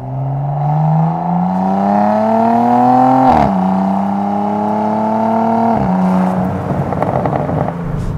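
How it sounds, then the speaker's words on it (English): Bentley W12 engine fitted with an Akrapovic exhaust revs hard and loud, rising in pitch twice with brief lift-offs between pulls, then burbling and crackling as it settles near the end. "this has a new exhaust, which sounds so bombastically fantastic"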